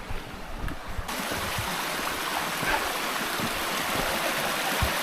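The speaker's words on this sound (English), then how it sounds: "Bit of a river crossing." Continuous rushing of river water at a stream crossing on the walk to Kitekite waterfall near Piha, New Zealand, a broad, steady flow that rises in level after the first second and stays close and constant, with faint scattered knocks.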